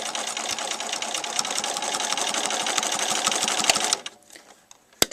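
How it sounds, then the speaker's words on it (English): A sewing machine stitches quilt binding in a steady, fast, close whir for about four seconds, then stops, leaving faint handling noises and a sharp tap near the end. "I'm going to begin stitching again. I'm going to take about 3 stitches, back up, and then go forward again."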